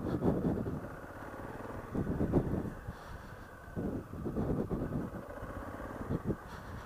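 A 2016 Honda Africa Twin with a dual clutch transmission runs with a low, throbbing engine rumble that swells and eases in pulses, partly blurred by wind buffeting on the microphone.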